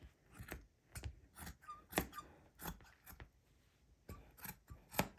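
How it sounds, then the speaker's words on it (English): Scissors cut through shirt fabric along a seam, giving a run of crisp, close snips in an uneven rhythm with short pauses between cuts, no talking. "let's get the scissors so that we can save some of this shirt"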